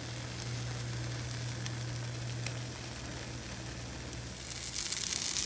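An egg frying in a pan, with a steady close sizzle that runs without pause and turns brighter and louder near the end.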